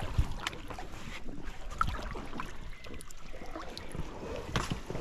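A small boat grinds and knocks as it is brought ashore against a log on a forest shoreline camp, with scattered thumps, water sloshing and wind noise throughout.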